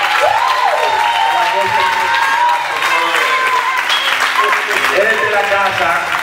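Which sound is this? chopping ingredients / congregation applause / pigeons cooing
congregation applause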